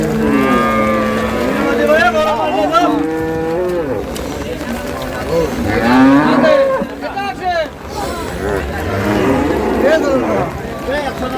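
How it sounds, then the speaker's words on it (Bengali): Dairy cows and calves low repeatedly with long, wavering calls at Raniganj cattle haat in Dinajpur, close and overlapping, while market voices chatter throughout. "গাভী বাছুর"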